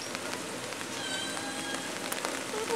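Rain falling steadily outdoors, a constant patter of drops on surfaces at moderate distance, alone without talk.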